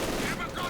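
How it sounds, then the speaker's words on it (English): Light machine gun fire in a World War II real-time strategy game, a short dense burst of rapid shots crackling under a commentator's voice. "Shock troopers advancing straight into light machine gun fire."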